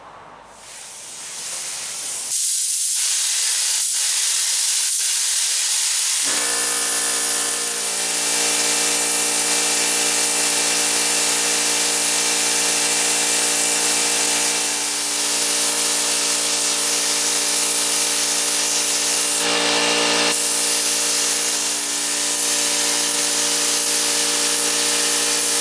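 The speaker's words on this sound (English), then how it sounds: "So let's get spraying some glue." Spray adhesive hisses continuously onto the side wall of a teardrop trailer, starting after a few short bursts and running as one loud, steady spray with a brief break near the end.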